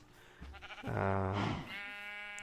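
A single drawn-out bleat from a Minecraft sheep, clear and close, rising and then fading over a couple of seconds with no talk.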